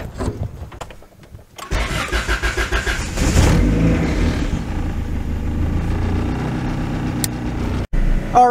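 A Honda car engine cranks with a rapid starter chatter for a few seconds, then catches and settles into a loud, rough idle close by, with a short click near the end.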